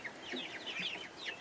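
Chickens, including young egg-laying hens, cluck and chirp in a coop, with a steady stream of short, overlapping calls close by and moderately loud.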